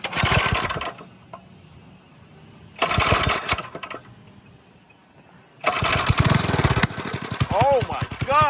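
A drift quad fitted with a Nibbi carburetor starts up and revs in loud bursts separated by quieter idling gaps, ending in a sustained rough engine run as people talk nearby.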